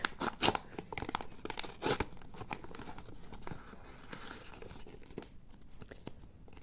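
A paper surprise packet is torn and crinkled open by hand, producing several close, sharp ripping and crumpling bursts at first, then quieter rustling and scattered crackles.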